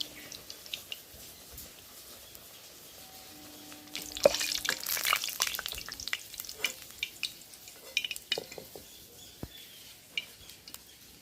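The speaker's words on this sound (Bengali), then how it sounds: "এভাবেই সব আমি একটা একটা করে ভেজে নেব" Bori puri frying one at a time in hot oil, a quiet steady sizzle that swells into crackling bursts and pops when fresh dough goes in, with no talk.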